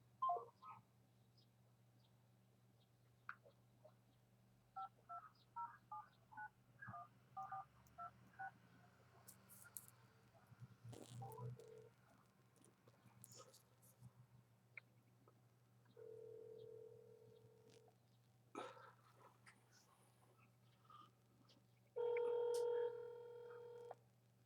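Touch-tone beeps of a phone number being keyed in on a telephone keypad, a quick string of short tones followed by longer ringing tones on a quiet line, with faint talk in the background.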